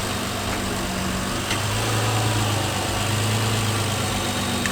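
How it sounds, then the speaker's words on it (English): A 2011 Subaru STI engine fitted with a new K&N air intake, running as a steady, loud idle with a low, even hum and no clear rise in revs, and no voices. "We're going to do a little bit of revs to see how it is."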